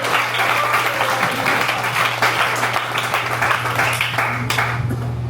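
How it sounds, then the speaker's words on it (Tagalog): Loud, sustained applause from a church congregation during a Sunday service, many hands clapping together in a thick, continuous roar over a low steady hum, with no voice standing out. "mas maganda palakpak para sa Panginoon"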